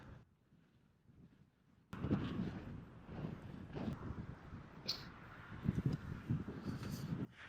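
Westerly wind sweeps across an open field as a cyclist rides through Berlin, a steady buffeting rumble on the microphone that jumps louder after a quieter start and keeps gusting throughout.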